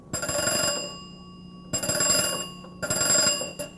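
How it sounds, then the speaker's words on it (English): An old magneto telephone bell rings in three bursts, two long rings and then a shorter one, each a loud metallic jangle separated by brief silences. "this is perhaps the Magneto phone in the back here. And I just wanted to show you how it rang here."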